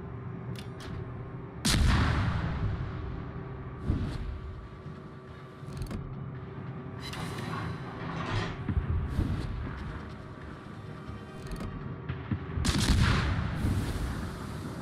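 Naval guns firing in World of Warships, several heavy booming shots at irregular intervals over a continuous rumbling battle background, with no voices.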